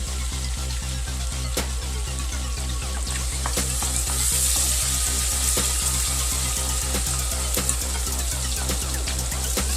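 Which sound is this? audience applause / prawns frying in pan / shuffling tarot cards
prawns frying in pan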